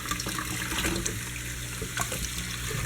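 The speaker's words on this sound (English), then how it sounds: "These pads, I'm just going to wash them and reuse them." Water runs steadily as aquarium canister filter pads are rinsed, a continuous splashing, trickling wash with small fluctuations, close and moderately loud with no voices.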